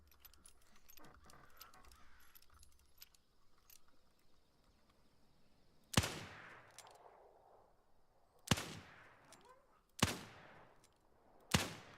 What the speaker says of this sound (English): I'm shooting the ground right in front of him, hoping he'll come this way